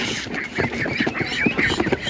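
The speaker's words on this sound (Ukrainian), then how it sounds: "Це дуже гарна качка." Repeated duck quacks in a steady run, fairly close, over a busy background murmur at an animal market in Ukraine.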